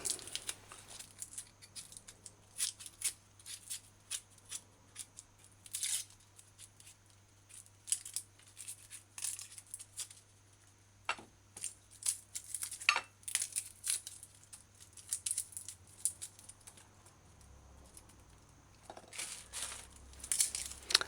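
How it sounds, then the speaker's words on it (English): An onion is peeled by hand, its outer layer stripped away, then diced with a knife for a jerk chicken pizza, giving close, irregular crinkly peeling and sharp cutting sounds over a low steady hum. "So you just strip it, take off the outer layer leaf, and dice it."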